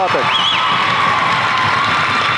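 A crowd at a high school game cheering loudly and continuously, with shouting, whoops and a whistle-like squeal rising over the roar.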